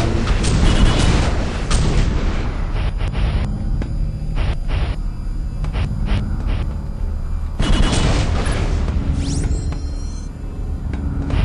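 Turret gunfire in the Area 51 video game, a dense loud rumble of repeated booming shots and blasts that keeps going through the clip with brief shifts in intensity.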